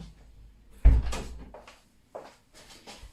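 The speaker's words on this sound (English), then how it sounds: "She's knocking at the door." A pet knocks at a kitchen door and the door is opened: a sharp thump followed by a few scattered wooden knocks and creaks, close and fairly loud, with quiet gaps between.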